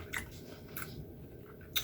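Close, crisp chewing of a crunchy Maltesers chocolate bar, with a few sharp bite crunches at the start, middle and end over soft mouth sounds.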